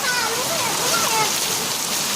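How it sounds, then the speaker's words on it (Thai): Hail and rain clatter on a house roof during a windy hailstorm in Chiang Mai, a steady dense patter with a voice speaking faintly beneath the drumming. "หลังคาที่เราอยู่นะครับจะดังป๊อปแปะเลยนะครับ"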